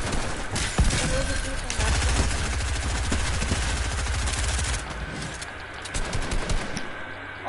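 Video game gunfire with a shotgun among the weapons: dense, continuous rapid shots and bursts fill the whole stretch at moderate loudness, easing and turning choppier near the end.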